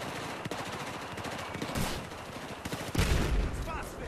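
Rapid automatic gunfire fills a naval battle in Battlefield 4, played on Xbox 360. Dense bursts of loud, crackling shots overlap continuously, with a heavier boom near the end.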